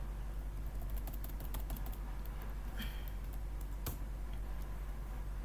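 Faint, sparse keystrokes on a computer keyboard, with one sharper key press near the end, set against a steady low hum while commands are entered in a terminal.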